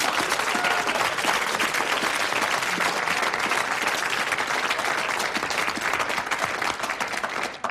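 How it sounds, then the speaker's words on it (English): Studio audience at a 1980 Blockbusters quiz show breaks into loud, dense, sustained applause that fills the whole stretch at an even level before tapering slightly at the very end. "Lots of applause."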